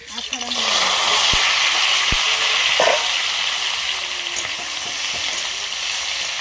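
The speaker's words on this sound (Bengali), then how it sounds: "ভাপিয়ে রাখা সজনে ডাঁটাগুলো দিয়ে দিচ্ছি।" Steamed drumsticks (sajne data) dropped into hot mustard oil with a little panch phoron, frying with a steady loud sizzle and crackle, with brief stirring clatter throughout.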